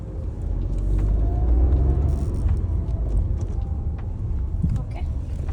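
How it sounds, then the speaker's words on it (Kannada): A car driven on the road while the accelerator is pressed, a steady low engine rumble and road noise rising slightly, with a person talking over it. "ಸೊ ನಾನಿವಾಗ ಆಕ್ಸಿಲೇಟರ್ ಕೊಡ್ತಾ ಇದ್ದೀನಿ"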